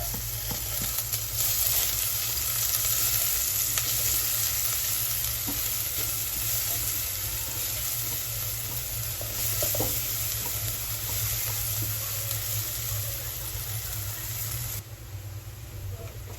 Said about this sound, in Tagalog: At igigisa na natin ang ating sibuyas.